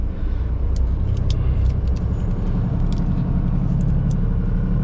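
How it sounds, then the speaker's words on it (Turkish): An old vintage car engine rumbles steadily at close range, a low continuous drone with a few faint high clicks and squeaks over it. "Aa, tarihi araba."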